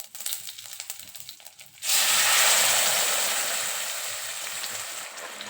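Ground paste poured into hot tempering of mustard seeds, cumin and curry leaves for an amla saar, erupting into a loud, steady sizzle after a quieter crackle of spluttering seeds, then slowly easing off.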